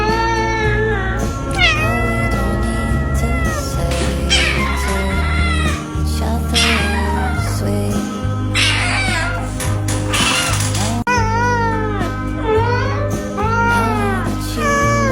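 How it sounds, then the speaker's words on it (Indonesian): A talkative Siamese cat meows repeatedly and loudly up close, in long drawn-out, whiny calls with varied pitch, one after another with short gaps, over a faint musical backdrop. "kucing Siam, si kucing banyak bicara, tukang rengek, si pencari perhatian"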